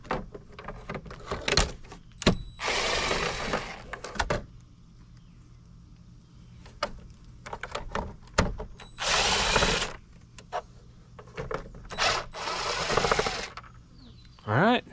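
Seven-millimetre metric bolts backing a mirror are worked loose with a hand tool, giving several short metallic bursts of clicking and ratcheting separated by quiet pauses.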